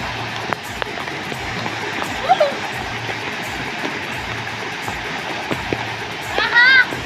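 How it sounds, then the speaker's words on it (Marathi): Water pours steadily into a stone-dammed pool where children swim, a continuous broadband rush with occasional splashes while kids talk and shout nearby. "इकडनं पाणी बघा किती येत आहे."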